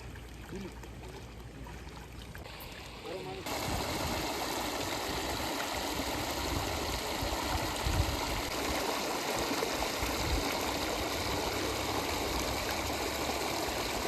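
Water from small streams runs steadily into a flooded rice paddy in the Dang hills near Saputara, Gujarat, as a continuous rushing flow that grows fuller and louder after a few quieter opening seconds.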